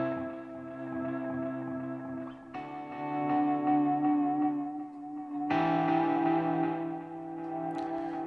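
An electric guitar runs through the Haunting Echoes preset on a Fractal effects unit, playing sustained, swelling notes with heavy echo and modulation in three chord changes, with no talking.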